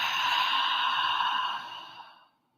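A long, slow exhale through the mouth during a guided breathing meditation, soft and close, steady for about two seconds before it tapers into silence.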